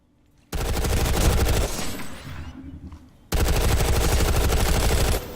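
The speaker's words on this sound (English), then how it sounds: "Try shooting some targets while aiming down sights." Automatic weapon fire in the shooter game Planetside 2: two long, loud, rapid bursts of shots separated by a short lull with a fading tail.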